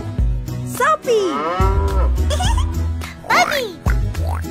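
A cow mooing in a children's cartoon song, several drawn-out sliding moos repeated between beats of upbeat music with singing, loud and close.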